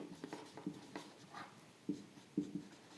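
Writing on a board during a Class 12 physics lecture on electrostatics, soft scratchy strokes in short bursts with brief pauses, close but faint against a quiet room.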